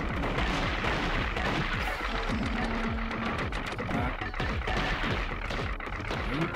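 Rockets exploding repeatedly in the video game Gato Roboto, a busy stream of loud, punchy blasts and crackling impacts with brief electronic tones mixed in.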